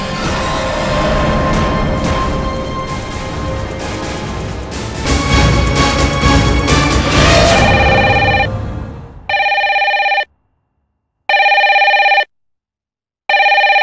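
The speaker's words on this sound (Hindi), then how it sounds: "सुनिए रचना का फोन है।" A telephone rings in three loud, evenly spaced bursts with silence between, following a stretch of dense, loud background sound.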